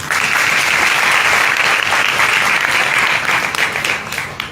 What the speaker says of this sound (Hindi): सभी पास्टर जितने भी प्रचार किया है सभी के लिए एक बार जोर से तालियां